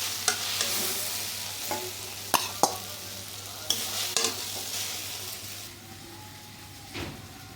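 Papaya pieces frying in white oil and ghee in a kadai, stirred with a spatula: a steady close sizzle broken by sharp scraping knocks and clatters, louder in the first half and settling into a softer hiss near the end.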